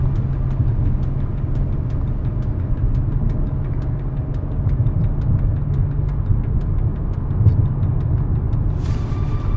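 A car drives along a winding canyon road, its engine a steady low rumble with constant road noise throughout, close and continuous with no talking.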